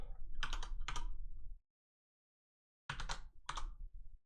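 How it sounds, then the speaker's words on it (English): Bursts of close computer keyboard typing, clicking keys in two quick clusters separated by a silent pause, with no voice. "But you can listen to my keyboard."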